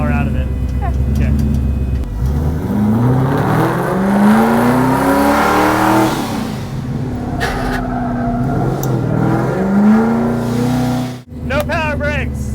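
A drift car revs hard, then a handbrake turn at the cones before powering out, engine pitch rising and sweeping loudly near the microphone, with a sharp tire-and-throttle burst at the end.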